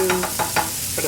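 Chopped onions sizzle and hiss as they fry in a pan over high heat, with a few quick stirring scrapes breaking them apart, close and fairly loud, no voices.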